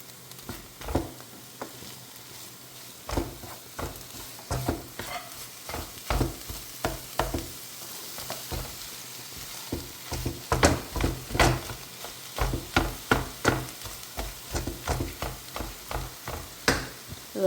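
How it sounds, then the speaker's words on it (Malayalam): Crushed green chili, ginger and garlic fry in a pan, a steady sizzle broken by frequent sharp scraping stir strokes, close and fairly loud, with no talking. "ഇനിയും നമുക്ക് പച്ചമുളക് ഇഞ്ചി ഒരു രണ്ട് അല്ലി വെളുത്തുള്ളി ഇത്രയും ചതച്ച് വെച്ച് അങ്ങോട്ട് കൊടുക്കാം"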